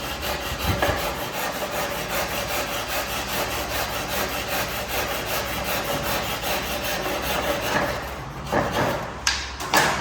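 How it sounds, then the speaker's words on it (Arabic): A hand saw cuts through wood in steady, rhythmic back-and-forth strokes for several seconds, loud and close, with a few knocks and shuffles near the end. "بعدين ياخذ المنشار"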